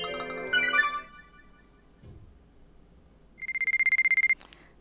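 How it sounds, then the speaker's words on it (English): A phone rings in White Album 2 as a rapid electronic trill of evenly pulsing beeps lasting about a second, clear and fairly loud after a brief tonal chime and quiet stretch, with no talking. "And we're getting a wonderful phone call."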